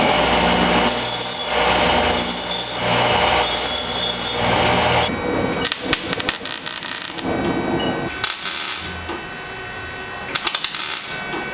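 Power tool cutting through a car bumper, close and loud, with a pulsing grinding cut followed by rapid rattling and buzzing bursts.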